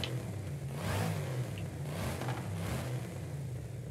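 Car in the racing game Forza Horizon 5 Hot Wheels expansion, its engine revving in a few rising and falling pulls over a steady low rumble, moderately loud and alone.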